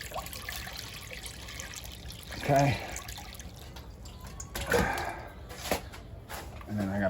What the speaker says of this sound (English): The water going here.